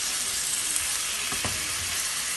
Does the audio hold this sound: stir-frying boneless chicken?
yes